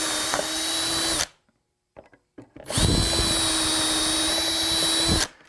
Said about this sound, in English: this little jig comes with a 6-inch aircraft drill, and these are hardened bushings